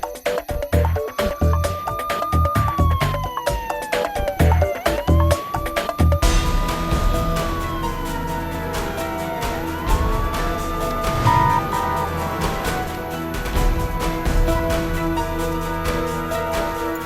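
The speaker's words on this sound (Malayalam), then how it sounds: "ആംബുലൻസ് ആയിരുന്നു." An ambulance siren wails in rising and falling sweeps as it passes by on the road, loud and near, over a rumble of traffic and car engines, with no voices.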